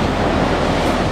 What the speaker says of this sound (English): I have a feeling these waves are gonna break right here, smash up against the rock.